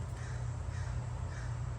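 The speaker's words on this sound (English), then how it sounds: "Dang, shut up, crows." Crows caw outdoors around a home driveway, a steady cawing that sits in the background under broad ambient noise, with no voices.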